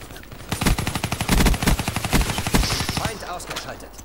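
A machine gun fires in multiplayer Call of Duty: Black Ops III, a loud, near, rapid automatic burst of evenly spaced shots lasting about two and a half seconds, then tapering into scattered game noise.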